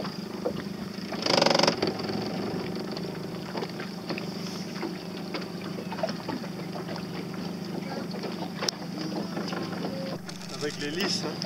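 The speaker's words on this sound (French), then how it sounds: "Ou un bateau à moteur, non?" Motorboat engine droning at a steady distance across the water of the Bay of Morlaix near Carantec, with wind buffeting the microphone and people chatting nearby.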